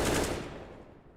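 A scoped rifle shot in Counter-Strike at an IEM New York 2020 CIS esports match, one loud sharp blast that rings out and decays over about a second, with no talk.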